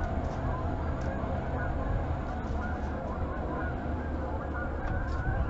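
A big flock of Canada geese flies far off across a river, honking continuously in a dense, steady chorus over outdoor background noise.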